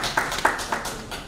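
A few people at a renewable energy conference clap briefly, with only a handful of distinct, scattered claps over a thin murmur of room noise rather than full applause.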